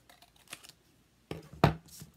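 Scissors snip through a folded paper circle, cutting it in half: a few faint rustles, then two or three close, crisp cuts with no one speaking.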